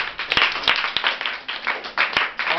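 A group of people clap in response to a request in a classroom or coaching hall, sustained, fairly loud applause with irregular sharper hand claps over about two and a half seconds.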